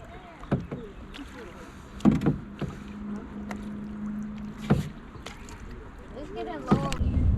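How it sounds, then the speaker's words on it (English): A canoe is paddled across open water, with intermittent splashing paddle strokes and light sloshing over a windy outdoor background, and faint voices now and then. "Oh, Zai, you don't know how to paddle, man."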